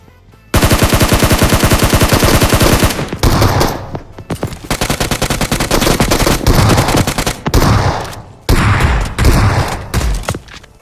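Loud automatic gunfire in the battle royale game PUBG, bursts of rapid shots close up that repeat with short gaps between them over about ten seconds.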